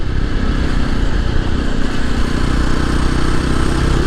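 A Jawa 42 Bobber motorcycle cruising on an open road at around 68–70 km/h, its engine a loud, steady, continuous drone mixed with rushing wind, with no one speaking.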